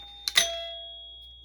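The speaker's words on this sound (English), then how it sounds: "Who else has ever seen a mechanical doorbell?" An old air-powered mechanical doorbell from a barn find strikes twice in quick succession, a bright ding-dong that rings out and slowly fades, close and alone.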